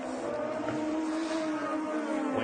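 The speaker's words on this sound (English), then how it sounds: "I hit the rev limiter there, I think." Engine of a 2012 IndyCar at the Sonoma Grand Prix droning at high revs near the rev limiter, a steady sustained whine that rises slightly without a break, loud and with no talk.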